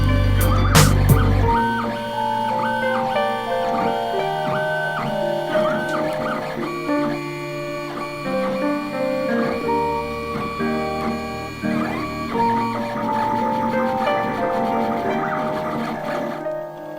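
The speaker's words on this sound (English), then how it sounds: "It's so epic that the 3D printer could do this." A 3D printer printing a bishop chess piece, with sustained whining stepper-motor tones that shift pitch in bursts over a steady mechanical hum, loud and close, with a brief knock at the start and no talking.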